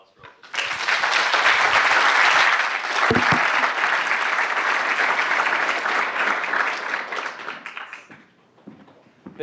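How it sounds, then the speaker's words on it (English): An audience at the DOE-Berkeley Cleantech University Prize final pitch competition breaks into a long, loud round of applause that starts abruptly, holds steady for several seconds, then fades out. "Another big round of applause for"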